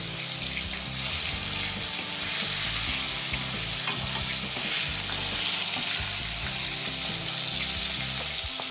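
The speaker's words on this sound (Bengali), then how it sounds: "দিয়ে দেবো সর্ষের তেল মাছগুলোকে ভাজার জন্য" Fish frying in hot mustard oil, giving a loud, steady and continuous sizzle and crackle up close, with no talk over it.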